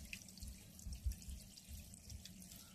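Water runs from an open tap in a house fitted with a pressure tank and pump, a faint, close trickle with small irregular splashes and drips, with no voices.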